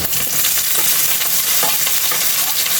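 Loud, close frying of golden-brown garlic as chopped onion goes in, a dense continuous sizzle with stirring scrapes throughout for a Filipino dried anchovy dish, with nobody speaking.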